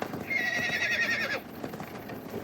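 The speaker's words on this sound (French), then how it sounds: "Et là, un cheval." A horse whinnies loudly, a shrill wavering neigh lasting about a second, followed by quieter rustling.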